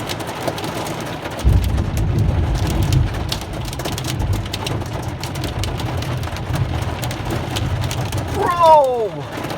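Hail drums steadily on a vehicle in a heavy downtown Denver thunderstorm, a dense rattling wash that swells louder midway, with rain mixed in; people speak briefly over it.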